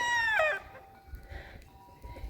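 Chicken, likely a rooster, crows loudly and close in a single call over the first half-second, then fades into quiet outdoor background.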